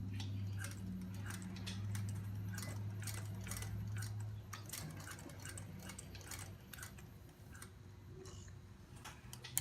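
Sewing machine stitching a zippered fabric pouch, a steady mechanical hum under rapid ticking needle strokes that run continuously, close and moderately loud, with no talking.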